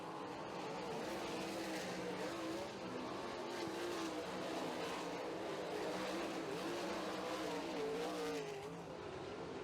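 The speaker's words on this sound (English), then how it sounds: "The leader heads off corner 4 onto the main straightaway one more time for Davey Frantic." Sprint cars racing around a dirt oval at a motorsports park, engines roaring loudly and continuously with rising and falling pitch as the field passes, a dense wall of engine noise throughout.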